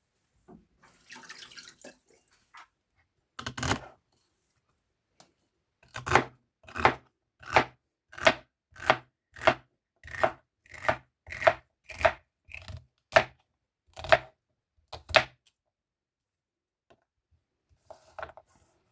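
Celery stalks are chopped on a cutting board for a smoothie, a steady run of about fourteen crisp, evenly spaced knife strokes following a few scattered cuts, close and clear with no talking.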